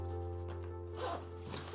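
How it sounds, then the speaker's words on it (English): A zipper on a camera dark bag is pulled open, a brief rasping zip over a low steady background hum, close by with no talking. "there's another zipper that opens in the opposite direction usually"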